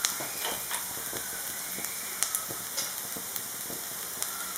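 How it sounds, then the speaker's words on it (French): Onion sizzles in a frying pan for spinach and goat cheese briouates, a steady close hiss with scattered sharp crackles and pops. "il faut que l'oignon soit bien cuit avant d'incorporer les épinards"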